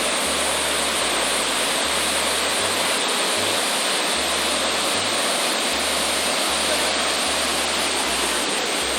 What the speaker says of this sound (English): That water's coming right out the rock.